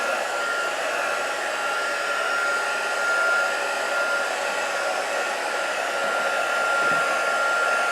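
A hair dryer blows steadily to dry wet paint, a constant, loud whooshing whine that continues alone without a break.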